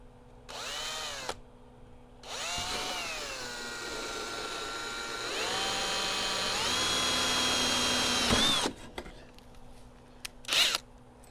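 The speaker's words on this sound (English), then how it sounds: "I'm gonna take my little drill bit again, and we're gonna drill right through there." A power drill with a small bit bores through metal while a curved LED auto work light bar is mounted, its motor whining in several long bursts that rise in pitch and strain, with short pauses between them.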